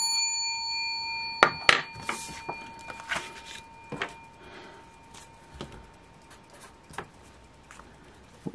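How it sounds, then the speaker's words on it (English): A bell is struck by accident, ringing out sharply with a sustained metallic tone, followed by scattered clunks and taps of handling nearby. "Whoopsie, banged the bell by accident."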